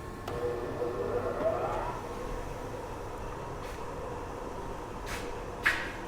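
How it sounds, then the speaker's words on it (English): The motor of a mechanical press brake in a small fabrication shop spins up its big flywheel, a steady droning whine with a constant hum beneath it and a couple of brief sharp clicks near the end. "I'll turn her on and you can see the big flywheel spinning."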